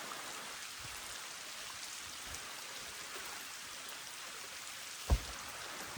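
Monsoon rain falling steadily over village countryside in Nepal, a continuous soft hiss of drops with no clear break, joined near the end by one brief closer knock.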